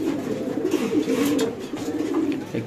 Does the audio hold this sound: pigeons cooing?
yes